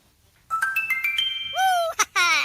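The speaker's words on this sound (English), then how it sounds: "Text message." A text message notification jingle plays on a sports radio show: a quick string of bright chime-like tones, then sliding tonal notes and a final burst, loud and close.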